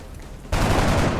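XCOM video game gunfire: a sudden loud burst of rapid shots that breaks in after a quieter half-second and keeps going as dense, sustained fire.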